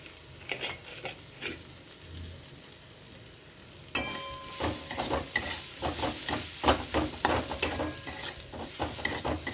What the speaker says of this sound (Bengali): এবার আলুগুলো দিয়ে দেবো। আলুগুলো স্ম্যাশ করেই দিয়েছি